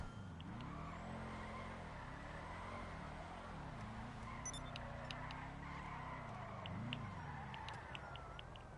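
A car drifting in GTA Online on PS4, its engine note steady and loud with repeated rises and falls in pitch as the revs swing through oversteer, with thin tire squeals high above, continuous throughout.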